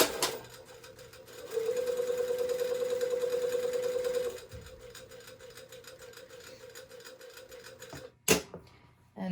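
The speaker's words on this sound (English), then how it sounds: "So I'm just starting at the bottom, sewing up to that dot." A sewing machine stitches a continuous lap sleeve placket on a shirtdress, running in a steady rapid burst that stops, then continues more quietly in a slower stretch, ending with a brief louder clunk.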